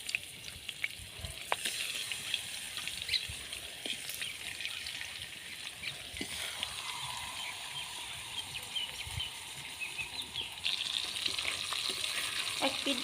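Pieces of pangas fish fry in hot oil in a pan, a soft steady sizzle with occasional clinks and stirring, fairly quiet throughout.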